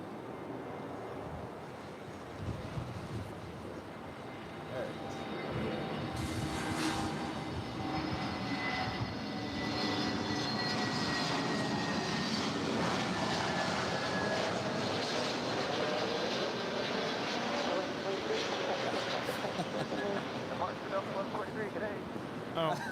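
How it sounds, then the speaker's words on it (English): A Western Global Airlines McDonnell Douglas MD-11 freighter arriving at LAX from Anchorage, its engine roar swelling from a distance and holding loud and steady as it passes close, with a thin whine riding above and faint voices underneath. "Western Global Airlines McDonnell Douglas MD-11 freighter coming in from Anchorage"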